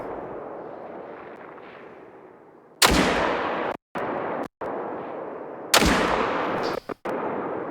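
Two loud rifle gunshots crack on a shooting range in the video game Call of the Wild, each followed by a long rumbling echo that fades away, with quiet ambience before the first shot.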